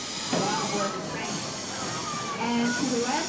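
The steam locomotive Edison hisses with a steady broad wash of steam, with faint voices and rail sounds mixed in at moderate distance.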